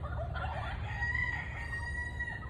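Chickens cluck and murmur nearby against a low outdoor rumble, with a steady soft chatter of fowl throughout.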